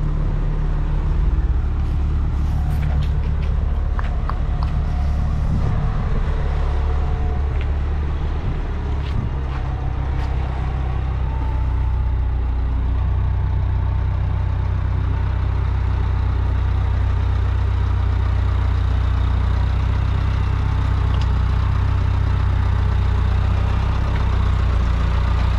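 A tractor engine rumbles steadily at close range as it manoeuvres on a closed road in Guernsey, holding a constant low idle-like drone with faint clatter throughout.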